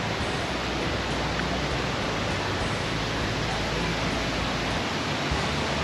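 The Savatsada waterfall near Chiplun pours from a height with a constant, broad rushing roar, an even wall of water noise with no talk over it.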